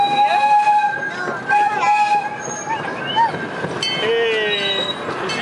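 The Oakland Zoo train rolls past with rumbling wheels, drawn-out squealing of wheels on the rails and tonal whistle-like notes, close and loud, while people talk.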